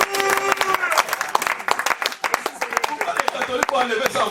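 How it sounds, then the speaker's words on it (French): Church congregation applauding during a French-language Sunday service, a burst of dense, sharp clapping that thins into scattered claps, with a voice speaking over part of it. "Applaudissez pour le Seigneur Jésus"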